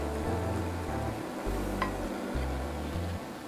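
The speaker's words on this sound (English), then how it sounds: "And just stir it up and keep stirring." A flour roux being stirred in a pot for a smoked chicken pot pie filling, with soft scraping and a faint sizzle under a steady low hum, no talking.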